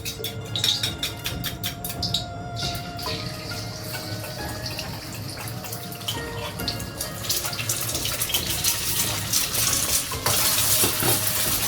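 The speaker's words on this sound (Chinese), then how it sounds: "快速把鸡蛋炒碎" Beaten eggs stir-fry in a hot pan with salad oil, a steady sizzle with repeated scraping and clattering of the spatula, loud and close throughout.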